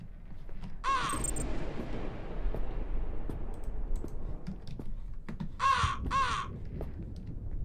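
Crows cawing in the Sinister Halloween video game: one harsh caw, then two more a few seconds later, heard over a low, rumbling ambient background with keyboard clicks.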